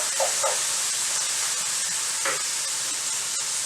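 Noodles frying in a pan, a soft continuous sizzle and hiss with a few small stirring scrapes, fairly quiet and without voices.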